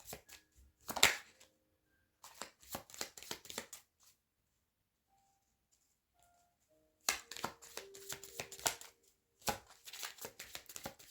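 Cards shuffled and drawn for a reading, crisp riffling flutters in quick bursts separated by a quiet pause, close and clear without talk.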